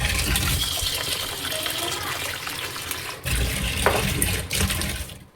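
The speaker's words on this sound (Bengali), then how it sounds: "জল দিতে হবে একটু।" Water pours and gushes into a container of soaked sabudana (tapioca pearls), a steady splashing stream that breaks off briefly and resumes in short bursts, close and fairly loud with no talking.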